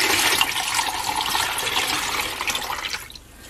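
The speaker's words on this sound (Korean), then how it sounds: "달인 물을 넣겠습니다." Decocted cheongbi tea water being poured from a pot for making sikhye, a steady splashing, gurgling stream close by that runs for about three seconds and then tapers off, with no talking.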